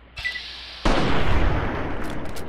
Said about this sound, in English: It's just explosion after explosion.